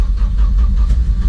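A car engine, just started after a weak battery, runs with a loud, low, rumbling idle heard close up for a brief moment.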